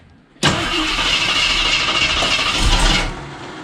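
A neglected 1973 AMC Pierre Cardin Javelin muscle car cranks loudly and close up as it tries to start, a sustained churning burst of about two and a half seconds before it drops away.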